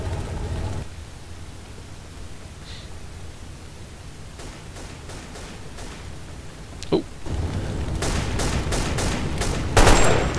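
Gunfire in the video game Delta Force: Xtreme 2: sporadic shots and short rapid bursts over a steady hiss, growing louder and denser near the end with a sharp close burst.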